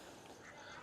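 A duck quacks faintly in a short outdoor burst, low in level against a steady background.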